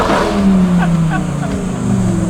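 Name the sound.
modified Lamborghini Huracan STO sports car driving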